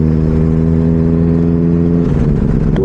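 A Benelli 600i motorcycle with an IXIL exhaust idles loud and close with a steady, throbbing engine hum, then its revs rise in a rougher, rising surge.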